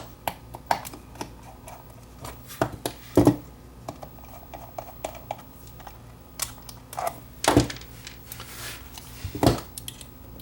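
The lid of a bluetooth speaker project case is undone by hand: a run of small close clicks, taps and light knocks with a few louder clunks, irregular and quiet, with no talking.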